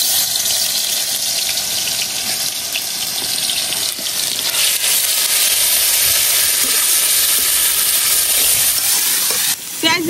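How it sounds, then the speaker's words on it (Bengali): Onion and garlic paste frying in hot oil in a wok, cooked for a kochur loti dish with dried fish: a loud, steady, hissing sizzle that runs unbroken for the whole stretch with no voices. "তেল গরম হয়ে গেছে, এখন পেঁয়াজ আর রসুন যেটা বাটতে রাখছিলাম এটা দিয়ে দেন।"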